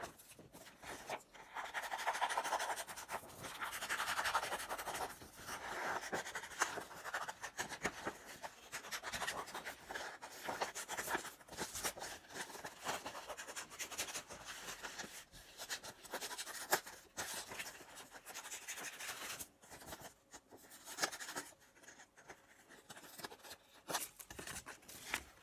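Scissors cutting around paper hand shapes for a minibeast craft, with continuous close scratchy snipping and rustling of paper at a soft, steady level throughout.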